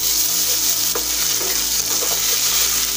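Chopped ginger fries with bay leaf, whole coriander, cumin and fennel in oil, giving a loud, even sizzle with a few soft stirring scrapes, close and uninterrupted without speech.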